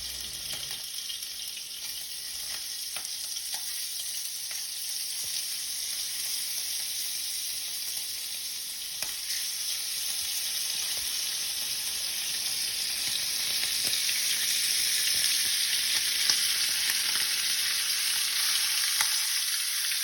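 Patted-dry shrimp sizzle steadily in a hot pan for shrimp and grits, a dense, even frying hiss that holds unbroken and swells slightly toward the end, with no talking.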